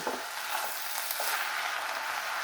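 Pinto beans stirred in a pot for taco soup, giving a steady close sizzling hiss with faint scraping strokes throughout, no voices.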